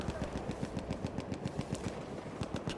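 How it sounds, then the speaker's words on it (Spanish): Rapid machine-gun fire in the video game Battlefield 1, a steady rattling burst of evenly spaced shots running throughout at moderate distance. "Escucho una ametralladora."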